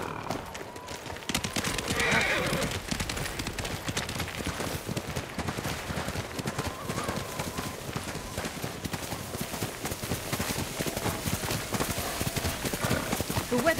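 Horse hooves clip-clop steadily through snow in a game scene, with a horse neighing and whinnying over a constant, dense rushing backdrop that runs the whole time.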